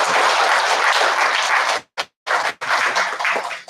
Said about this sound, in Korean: 또 크나큰 또 실적 거두시라고 격려의 박수를 한번 부탁드립니다.